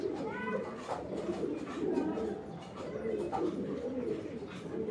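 Tiger grizzle pigeon, a female, cooing with steady low murmuring calls throughout, close by, with faint voices in the background.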